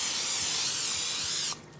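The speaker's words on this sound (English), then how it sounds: "Flip it over and spray the other side." Butter-flavored cooking spray hisses from a can onto pizza dough in one steady, close burst lasting about a second and a half, then cuts off abruptly.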